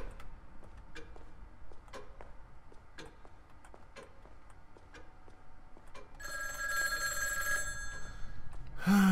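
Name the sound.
telephone ringing in the horror video game Obscuritas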